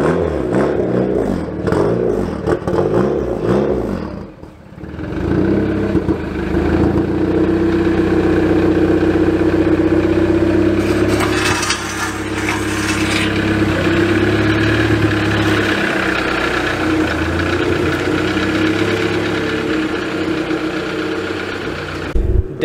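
A turbocharged Honda Prelude engine idles after a cold start, running loud and close with an uneven, pulsing note, a brief dip early on, then a steadier drone that holds to the end.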